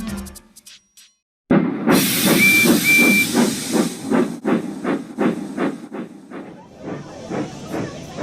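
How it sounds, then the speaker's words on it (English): After a short quiet gap, a loud blast of steam hiss bursts out with a brief whistle, then rhythmic chuffs of a steam locomotive pulse steadily, slowly fading. "Whistle blows and the engine roars."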